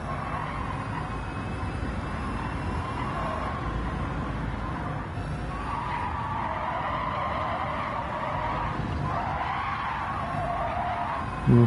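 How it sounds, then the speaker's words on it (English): Tires squeal and skid continuously as a race car slides around a corner in Gran Turismo 7, with the engine droning underneath and no talking. "See if I can slide around that corner."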